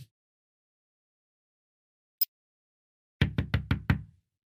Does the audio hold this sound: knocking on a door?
yes